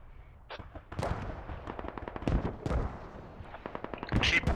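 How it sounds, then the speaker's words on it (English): Smoke mortar fire in a mechanized battle video game, with clusters of distant thuds and bursts in quick irregular succession under a mix of other battle noise, talk partly heard over it. "Smoke mortar is good."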